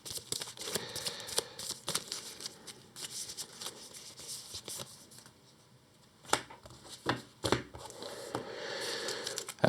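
Cards from the Earthborne Rangers board game being shuffled by hand, a near, dry papery riffle and rustle running steadily for several seconds, briefly pausing, then resuming in a few short bursts.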